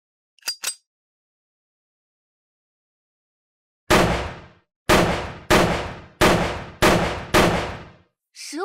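Test shots are fired at a shooting target: five sharp, loud gunshots come in a quick, fairly even series, each with a short decaying tail. A brief faint tap sounds earlier, before a long silence.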